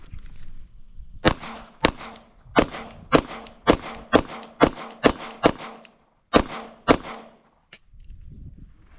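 A P365XL pistol fires about a dozen sharp, loud shots at a target in a fairly steady rhythm, each crack standing alone with brief gaps between.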